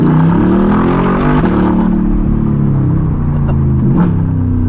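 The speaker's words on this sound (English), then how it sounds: "We can do a burble." A tuned performance car's engine burbles and rumbles from close by, a loud, continuous low growl that wavers in pitch as the revs shift, with a few crackling pops from the exhaust.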